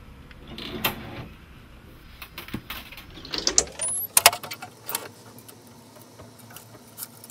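On a racquet stringing machine, a clamp is set and locked onto a string, heard as a series of close mechanical clicks, ratcheting and sharp metallic snaps with a few light taps before and after.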